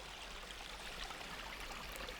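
A river in a forest flows with a soft, steady rushing wash, faint and continuous, with no voices.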